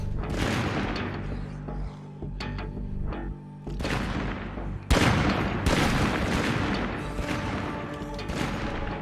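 Rapid gunfire from shooting zombies around a surrounded base in a first-person video game, dense overlapping shots and booms in loud bursts, with game music in the background.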